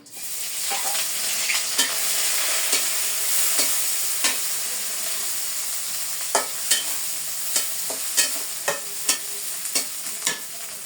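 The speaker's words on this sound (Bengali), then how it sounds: "কড়াই তাপে গেছে, শুটকি ভাইজে নিই।" Dried fish (shutki) frying in a hot wok, a steady loud sizzle with repeated sharp scrapes and clinks of stirring that grow more regular toward the end.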